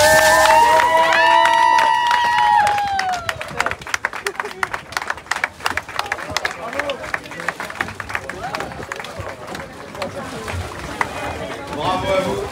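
A crowd claps and cheers for sailors Samantha Davis and Jack Bouttell arriving aboard the Initiatives Cœur racing yacht, with brief music at first before dense, steady applause runs to the end.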